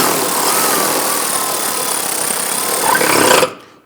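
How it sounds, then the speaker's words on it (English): Power tool snugging down bolts while installing a power steering pump on a 2000-2006 Toyota Tundra, a loud, close, steady whirring burst lasting about three and a half seconds, then cutting off. "Now we're just going to snug those down once they bottom out."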